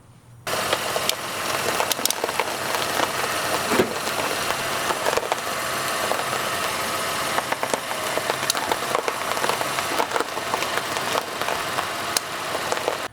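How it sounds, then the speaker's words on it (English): A vehicle fitted with auto-tightening tire snow chains rolls forward through one wheel rotation, its engine droning steadily with a loud, continuous rumble and faint irregular knocks and clinks over it. "we're gonna go ahead and just pull forward and see what this does when we rotate the wheel a little bit"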